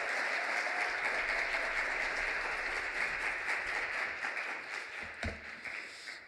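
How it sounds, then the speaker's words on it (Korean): A church congregation applauds warmly to welcome a pastor arriving to preach, sustained clapping filling the room for several seconds and thinning toward the end. "우리 뜨거운 환영의 박수로 모시도록 하겠습니다"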